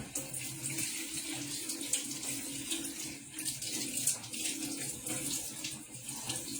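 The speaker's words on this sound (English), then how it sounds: "Okay, so now I'm going to wash these off. Cold water." Cold water runs steadily from a kitchen tap onto celery being washed, a close, even splashing stream with faint handling sounds.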